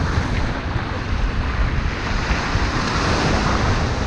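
Ocean surf rolls steadily onto an Antigua shore at night, a loud, continuous wash with wind buffeting the microphone, and no voices.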